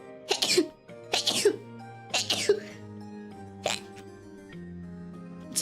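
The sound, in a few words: repeated sneezing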